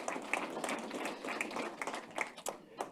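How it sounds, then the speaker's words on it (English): A small crowd claps at a business awards event, scattered and uneven with a few sharp individual claps standing out, fairly quiet and thinning toward the end. "Can we give Ian another round of applause"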